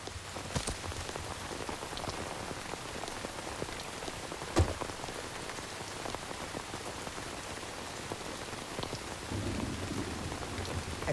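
Steady rain falls on a street, a dense even patter of drops with a soft distant rumble of thunder and one sharp crack midway, continuous and moderately quiet.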